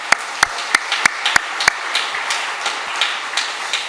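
A church congregation claps for its Sunday school teachers. Several sharp, evenly spaced claps ring out first, then spread into a softer, scattered patter of applause that continues to the end.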